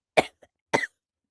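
A voice imitates coughing: two short, sharp coughs close to the microphone, separated by a brief pause, in otherwise silent surroundings.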